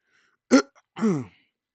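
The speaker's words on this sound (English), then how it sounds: "I need to clear my throat many times." A person clears their throat twice in quick succession, close and fairly loud, with silence around it.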